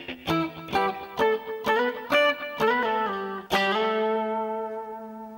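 Clean electric guitar playing octave shapes in a song outro, with a series of evenly spaced plucked notes over about three and a half seconds, then a final chord left ringing out, close and moderately loud with no talk.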